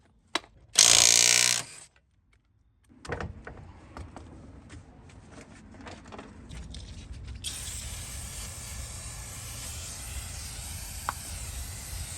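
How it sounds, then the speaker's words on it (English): A hand ratchet works a 14 millimeter bolt on the rear brakes of a 2017-2022 Chevy Malibu, with a loud hiss-like burst first, then a run of close, quick mechanical clicks over steady background noise. "14 millimeter. We may can get the ratchet on there."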